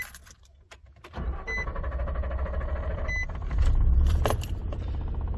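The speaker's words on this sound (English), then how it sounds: "Start the vehicle up." A car starts after its throttle body is cleaned: a brief quiet gives way to the engine catching and settling into a rumbling idle, with a short rise in revs and a few clicks and chimes nearby.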